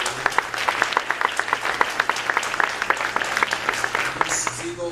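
Steady audience applause at a public forum on a south suburban trauma center, many hands clapping in a dense, continuous patter at moderate volume throughout, with faint talk underneath.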